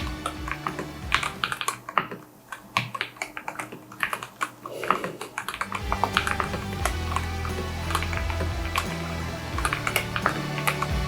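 Typing on a QPad magnetic keyboard: a run of quick, close key clicks and taps, irregular in rhythm, with a steady low hum filling the background in the second half.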